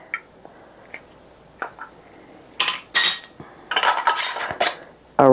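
A metal ring and brand-new lid fitted onto a warm jar of grape jelly, with sharp metallic clinks and scrapes that come in scattered bursts and grow busier toward the end, close and without talk.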